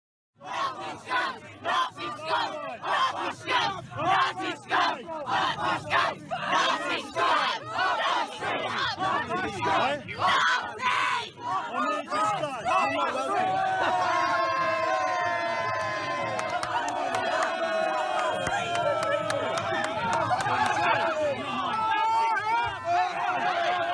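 A protest crowd in the UK yells and chants at a lone Trump supporter, loud overlapping shouting and jeering, then a sustained roar of massed voices near the end.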